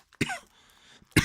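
Two sharp, close coughs from one person, each a short harsh burst, separated by a brief quiet breathy gap.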